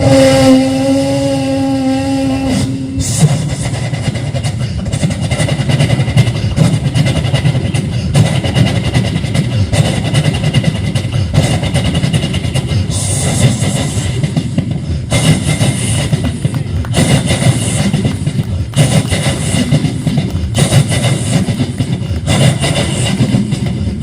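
Performer on stage at a mega show vocally mimicking a train going onto a bridge, a loud continuous rumbling chug with rhythmic pulses and shifting tone, delivered through a sound system after a brief opening tone.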